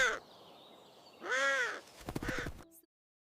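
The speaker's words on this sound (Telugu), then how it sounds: "కాకులు నాశనం చేస్తున్నాయి." Cartoon crows caw loudly over a farm field, a few harsh, drawn-out calls followed by a rapid burst of shorter caws, close and clear with no talking.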